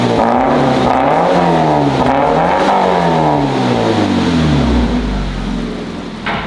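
A Toyota GT86 fitted with a new exhaust revs loudly and close by, its engine pitch climbing and falling in several sweeps. A deep, meaty drone then settles as the revs drop.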